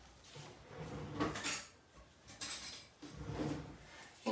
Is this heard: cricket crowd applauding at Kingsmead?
no